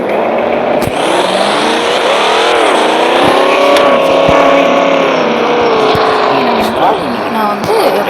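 A European luxury car's engine runs loud and steady, its pitch swelling and dipping as it revs over several seconds, with a person talking faintly underneath.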